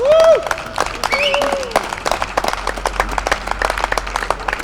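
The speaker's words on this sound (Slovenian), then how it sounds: "Navdušenje je bilo jasno izraženo z vzkliki in aplavzom." Concert audience cheering and applauding, dense clapping building into a steady sustained roar with a few shouted cheers early on, fairly loud and continuous.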